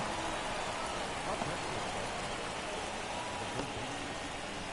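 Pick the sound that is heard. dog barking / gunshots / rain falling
rain falling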